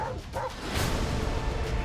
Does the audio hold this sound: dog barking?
yes